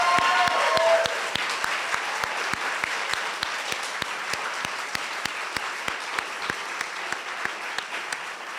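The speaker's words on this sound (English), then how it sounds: "If you'll stand up, Susan, just take a round of applause." Audience applause at a harvest celebration marking 40 years, a steady wash of many hands clapping with sharp individual claps standing out, loud and continuous throughout with no talk.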